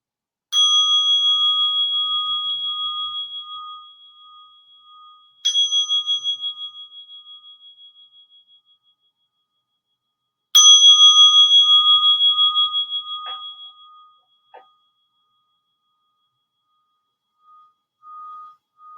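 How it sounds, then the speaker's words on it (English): A meditation bell struck three times during a group dharma practice, each strike a clear ringing tone that decays slowly into silence, the third strike loudest with a long fade and no talk. "I'll start us off by inviting 3 sounds of the bell."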